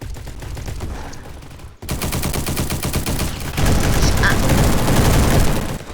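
Rapid sustained automatic fire from an M249 machine gun in a shooting video game, dense rattling bursts that cut out briefly then resume louder and continue without a break.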